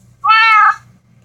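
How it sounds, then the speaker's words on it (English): A single clear meow from a cat in the Minecraft video game, loud and close, about half a second long, with faint background noise and no talk. "Come on, kitty, I want to feed you."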